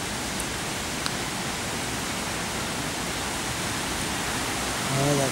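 A waterfall near Meiringen roars as a constant broadband rush of falling water, loud and steady throughout, with a voice starting to speak at the very end.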